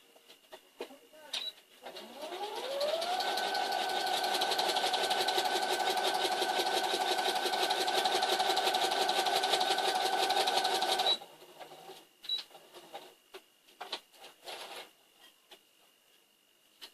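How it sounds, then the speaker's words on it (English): Sewing machine stitching down a seam line on a newspaper quilt, running steadily and loudly for about eight seconds with a fast even needle rhythm after a short ramp-up, then stopping, with faint handling noises around it. "We are going to sew down that line, and we're going to see how well we done."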